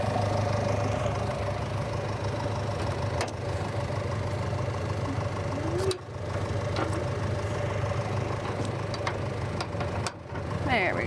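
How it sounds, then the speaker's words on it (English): An all-wheel-drive Mercedes Sprinter chassis with a four-cylinder engine idles with the hood open, giving a steady, close mechanical drone with faint ticking, under occasional light background sounds. "The chassis is running. This is on the all-new all-wheel drive Mercedes Sprinter"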